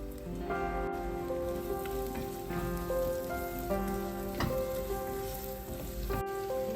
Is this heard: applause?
no